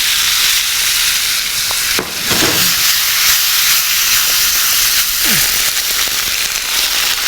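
Whole spices such as cumin, asafoetida and dried red chilli frying in hot oil for a tomato chutney tempering, a steady close sizzle with occasional brief scrapes and stirs.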